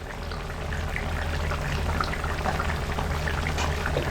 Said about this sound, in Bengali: এবার এর মধ্যে অল্প পরিমাণে সস উপর থেকে দিয়ে দিচ্ছি